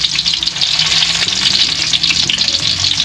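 Eggplant slices frying in hot oil in a home kitchen at breakfast, a loud, close, continuous bubbling sizzle with faint stirring beneath it, and no voices.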